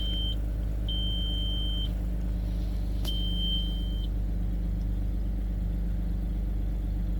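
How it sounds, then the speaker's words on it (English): An Audi A6 sounds its low coolant warning as a series of steady electronic beeps, each about a second long, over the continuous low rumble of the idling engine, with a brief click partway through. "Oh, hold on, let it beep."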